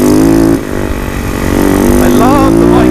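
An enduro motorcycle engine roars loud and close as the bike rides over rocky terrain, the steady drone rising and falling with throttle changes throughout.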